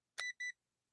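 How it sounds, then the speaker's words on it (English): A voltage detector pen gives two short, bright electronic beeps in quick succession right after being switched on, close and clear, then silence. "it's going to beep to tell me that it's working."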